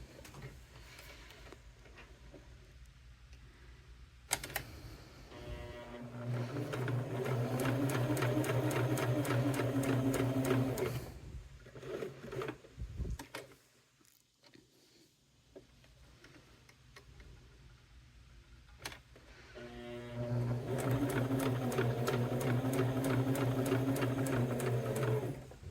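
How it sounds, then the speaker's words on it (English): A sewing machine stitches down the long sides of a cork wallet in two steady, loud whirring runs with rapid needle ticking. Quieter pauses with handling clicks fall between the runs. "we're going to sew down each long side"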